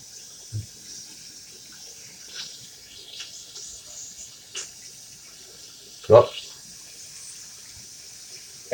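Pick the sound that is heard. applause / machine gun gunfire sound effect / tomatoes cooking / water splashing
water splashing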